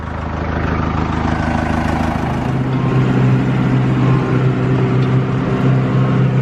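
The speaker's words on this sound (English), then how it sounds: "Let PJ get used to riding the tractor" A John Deere tractor engine runs steadily close by, a dense low rumble with a constant idling drone that shifts slightly in pitch partway through.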